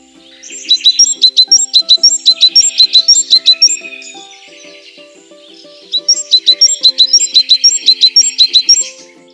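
Tits chirp in two bright, fast runs of sharp repeated notes, loud and close, separated by a brief pause, with soft background music beneath.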